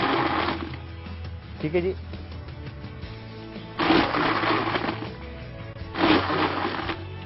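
A blender makes brief pulses as it mixes mango colada with ice: three short grinding bursts separated by pauses, with a person speaking in between.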